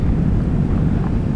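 Ocean surf in an island impact zone with strong wind buffeting the microphone, a loud, continuous low roar of breaking waves and rushing air with no voices.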